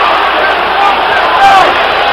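Loud, sustained crowd roar fills a 1977 NBA basketball arena during a Bullets vs Rockets game, a dense wall of yelling with no pause and a few whistle-like tones riding over it.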